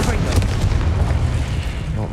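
A Confringo explosive spell blasts in the Hogwarts Legacy video game, a loud booming burst with a few sharp cracks amid dense, continuous combat noise, with a voice speaking over it.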